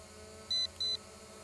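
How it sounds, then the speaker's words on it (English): An ATTOP W80 camera drone gives two short, high-pitched beeps in quick succession as it switches to high speed. The beeps are clear and close over a quiet background hum. "So 2 beeps there should be in high speed."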